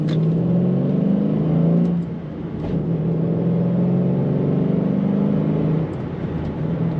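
A 2008 Ford Mustang GT Premium with about 27,000 miles, heard from inside while driving, its engine droning steadily and loudly, dipping briefly for a gear shift near the two-second mark, then pulling again with a continuous low rumble and no talking.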